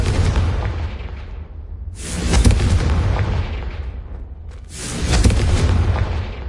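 Confringo blasting spell explodes in the Hogwarts Legacy video game, heavy rumbling booms that swell and decay in three big waves, loud and close, with no speech.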